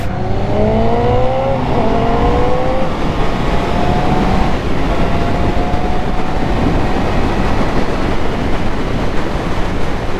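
A 2025 Honda CB650R naked street bike with E-Clutch pulls away, its engine note climbing steadily over the first few seconds before a broad, steady wind roar takes over and carries on to the end.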